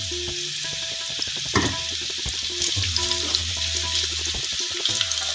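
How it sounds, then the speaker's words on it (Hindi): Thin-cut carrot strips fry in a pan for Afghani pulao, with a steady close sizzle broken by repeated scrapes and clatters of a stirring utensil, no voices. "इनको मैं थोड़ा सा फ्राई करूँगा।"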